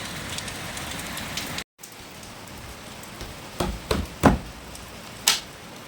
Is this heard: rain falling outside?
yes